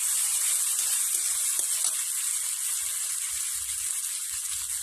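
Green chilies frying in oil for a Bengali chandani fish curry, a steady, bright hiss of sizzling that stays even and continuous throughout, with faint low bumps underneath and no talk.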